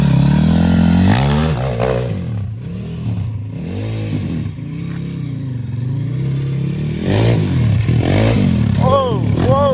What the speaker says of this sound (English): You go up those steps, and then you hop down each one of those.